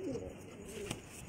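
A long-distance racing pigeon held in the hand gives a soft, close cooing call, a brief low warble with faint handling rustles.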